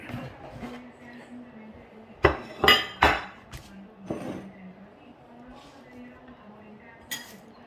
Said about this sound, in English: chop the cilantro